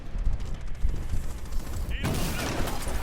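Gunshots in a shooting video game, a dense, steady stream of rapid fire that swells into a louder, harsher volley near the end, with faint talk mixed in.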